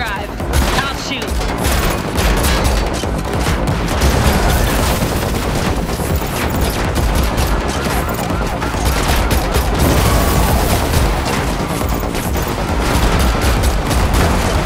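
Rapid bursts of automatic gunfire in The Matrix Awakens game during a car chase, loud and dense, blending with engine roar and booms throughout.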